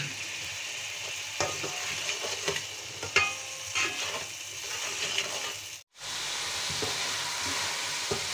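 Ground spice masala is stirred and fried in a pan, sizzling steadily with scraping stirs and a brief dropout near the end.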